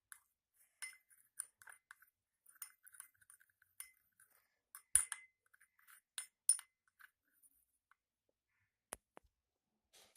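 A face exfoliator mixture being stirred in a bowl, with light spoon clinks and scrapes that come in short, irregular taps, faint and close, plus one sharper knock partway through.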